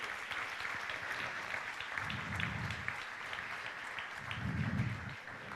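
Church congregation clapping during a sermon, a fairly quiet continuous patter of applause with two low rumbling swells partway through.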